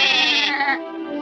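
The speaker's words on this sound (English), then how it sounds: "This is the domain of the sheep." A cartoon sheep gives one bright, wavering bleat, loud and close, against grazing land in sheep country.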